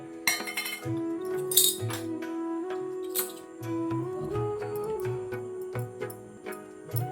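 Miniature kitchen utensils clink and tap while khichdi is served, giving light, bright metallic ticks in an irregular rhythm with small thuds between, close and fairly quiet over soft background music.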